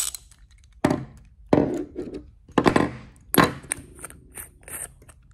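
Socket wrench working loose the bowl nut on a 4-stroke small engine carburetor, giving several sharp metallic clicks and knocks spaced irregularly, close and fairly quiet, with no talking.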